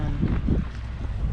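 Steady low wind rumble buffeting the microphone outdoors on a boat anchored off an island, continuous and fairly loud, with faint water and boat noise beneath.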